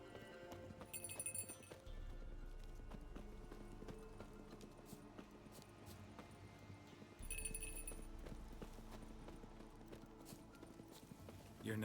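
A horse's hooves clip-clop steadily in the Witcher 3: Wild Hunt video game, with a regular walking rhythm heard fairly close over soft game ambience.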